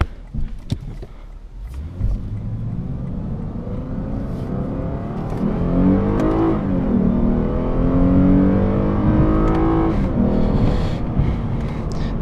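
A 2015 Lexus RC350 F Sport accelerating hard in Sport mode. The engine note climbs steadily over several seconds, shifts up and climbs again, and stays loud and close throughout with no talking.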